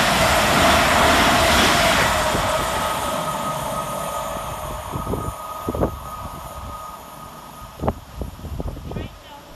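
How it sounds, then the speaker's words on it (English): Two coupled Great Western Railway Class 387 electric units pass on the fast line at Hanwell station, a loud rushing roar that fades over several seconds, followed by quieter rhythmic clunks and rattles of wheels over rail joints. "On the fast line for Great Western Railway is 387156 and 387148, working 2P56 from Didcot Parkway to London Paddington."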